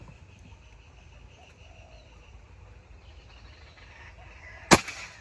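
A Bocap Bogel Monster M3 air rifle fires once with a sharp, loud crack near the end, following quiet outdoor ambience with faint birdsong.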